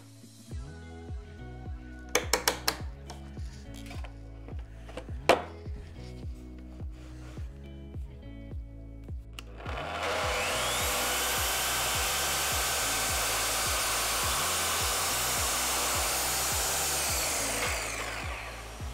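Circular saw with a plunge guard cutting a panel along a guide rail, starting up into a steady loud whine for about eight seconds, preceded by quieter handling clicks and taps over a repetitive musical background.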